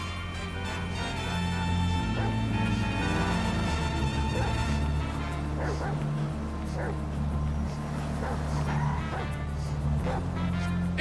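Dog in the video game GTA5 yipping and barking in short repeated bursts over a steady engine-like drone and music, with voices talking over parts of it.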